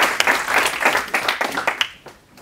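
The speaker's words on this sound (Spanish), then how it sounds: "Un fuerte aplauso para Rodrigo García" Audience applause for a speaker at a fintech conference, a dense burst of clapping that swells, holds for about two seconds and then thins out toward the end.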